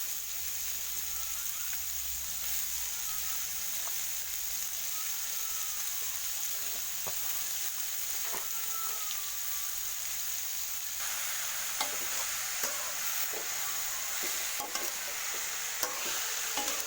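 Shredded papaya is stir-fried in a pan for a pempek filling, giving a steady soft sizzle and hiss with occasional scraping clicks of stirring, no one talking.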